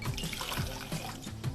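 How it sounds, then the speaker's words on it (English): Smirnoff Ice Pink Lemonade poured out of the bottle, a close, continuous liquid trickle and glug lasting under two seconds with no talking. "Now we have to pour some out,"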